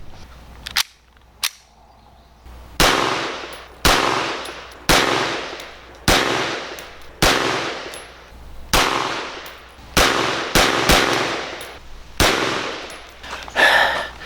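AMT AutoMag II .22 Magnum pistol firing about a dozen sharp, loud shots, two spaced apart at first, then a steady string at roughly one-second intervals with a few quick doubles, each ringing out briefly.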